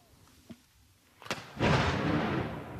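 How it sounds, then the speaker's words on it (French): A distant boom followed by a sharp blast, then a sustained rumbling roar, like a cannon shot echoing outdoors; ceremonial cannon fire in New Zealand. "Alors que des coups de canon sont tirés"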